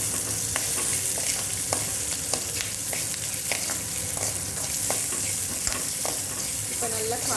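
Curry leaves fry with small onions and garlic in a hot pan, a loud, continuous sizzle with scattered crackles and the repeated scrape of a stirring spoon.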